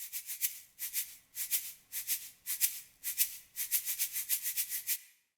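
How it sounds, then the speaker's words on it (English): A shaker plays a steady, crisp rhythmic pattern of short bursts that grows slightly busier toward the end, heard alone and fairly quietly. "The shaker sounds like this."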